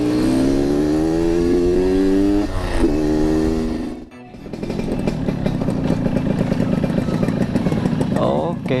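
A Yamaha RX King two-stroke motorcycle engine revs loudly and close, climbing in pitch, dropping off briefly, then holding a steady high buzzing rev, with talk in the background.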